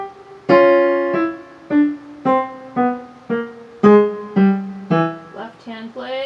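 A piano plays a single line from Khachaturian's Waltz, a sequence of about ten distinct notes struck in a steady, lilting rhythm, each ringing briefly before the next, clear and close with no talking.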